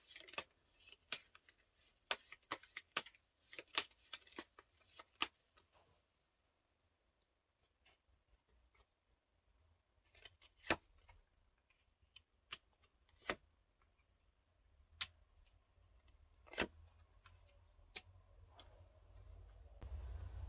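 Tarot cards shuffled and drawn, a dense flurry of crisp riffling flicks in the opening seconds, then a lull and scattered single snaps and slides as cards are laid out, close and quiet with no talk.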